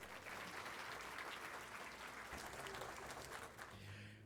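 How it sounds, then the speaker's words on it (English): An audience at a Hall of Fame awards ceremony breaks into sustained applause, a dense, even wash of clapping heard from a distance and tapering near the end. "please join me in applauding all of the individuals we're here to recognize"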